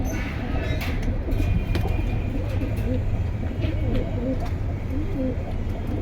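Pigeons coo steadily amid busy background noise at a pigeon market in Kalindi, Keraniganj, with a constant low crowd murmur and voices talking throughout.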